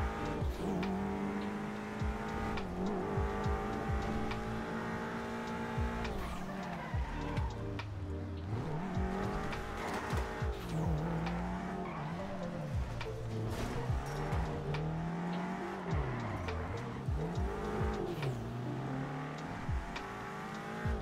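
Engines rev and roar continuously through a car race in a video game roleplay server, with rising and falling pitch as the cars accelerate and shift, and brief tire squeals, loud and steady throughout.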